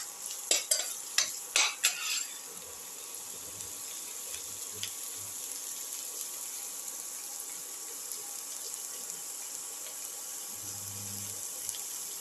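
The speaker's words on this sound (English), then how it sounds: "Put in the shallots. Sauté the shallots together." Shallots sizzle steadily in a hot pan, opening with a few loud stirring scrapes before settling into a continuous soft frying hiss, with no talking.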